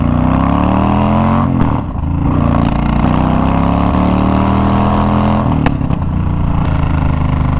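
A $200 auction motorcycle's engine runs steadily and close by, with a strong low, even drone that rises and falls slightly, dips briefly near two seconds and again around five and a half, then carries on.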